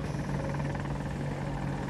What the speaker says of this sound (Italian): c'è un elicottero che ci spara dalla base più o meno